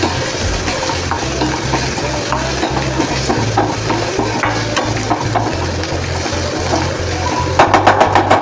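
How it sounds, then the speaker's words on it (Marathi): Onions sizzling and being stirred in a hot pan, with steady crackling, scraping of a spoon, and a few sharp clinks near the end. "आता ही सगळी फोडणी आपली छान परतली"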